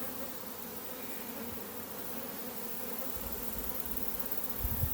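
A honey bee swarm caught in an apiary on a hot day hums in a dense, continuous drone, steady and fairly close, with low rumbles near the end.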